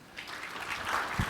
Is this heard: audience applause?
yes